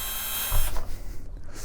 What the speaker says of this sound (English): I might have to get my drill for this. I think that's gonna be the best way, is get a drill.